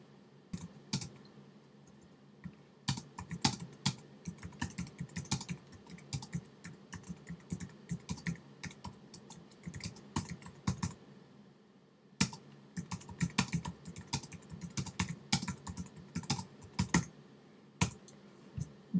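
Fingers clatter on a computer keyboard in bursts of quick clicking keystrokes with brief pauses, close and fairly quiet, and nobody speaks.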